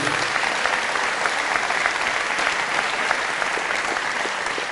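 Sustained, loud applause from a church congregation fills the space evenly, with dense steady clapping throughout and no break.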